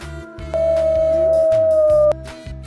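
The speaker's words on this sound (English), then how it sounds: "Wolf. This is a wolf." A wolf howls in one long sustained, steady tone, loud and close, alone against a soft background of music.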